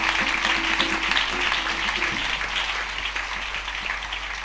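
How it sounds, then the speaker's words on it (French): A church congregation claps together for Jesus at a worship gathering, a sustained wash of close, even applause that holds steady throughout, with a low hum beneath it at the start. "Let's clap for Jesus."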